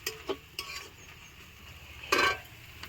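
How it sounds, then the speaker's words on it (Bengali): Whole spices fry in oil for chicken ghugni, with a faint sizzle under a few sharp spatula clinks and scrapes against the pan. "আদা রসুনটা দেওয়ার আগে ছালটা দিয়ে একটু কষিয়ে নেবো যাতে তেলটা ওঠে"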